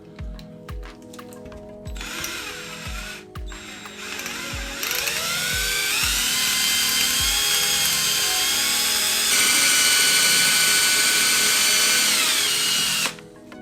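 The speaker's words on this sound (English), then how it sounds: "Get the drill!" A power drill grinds out a seized screw on a Traxxas Unlimited Desert Racer RC truck during a teardown. Several short bursts and clicks build into a long, loud, close whine, with the pitch settling and rising as the bit bites.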